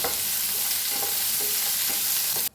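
Tomatoes, onion and cashews roast in a hot pan, giving a steady loud sizzle with a few soft stirring scrapes, then cutting off abruptly at the end.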